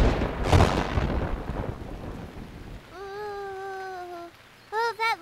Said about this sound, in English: that lightning came really close